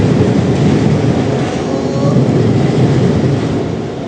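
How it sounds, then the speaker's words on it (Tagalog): An LRT light rail train rumbles past close by, a loud continuous roar of rail noise with a faint high squeal, no voices. "Ayun, may LRT pala. Akala ko walang LRT."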